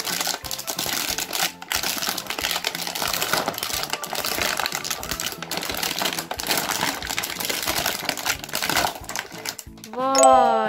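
A toy police set is unwrapped, its plastic packaging crinkling and crackling steadily at close range, with a brief voice near the end.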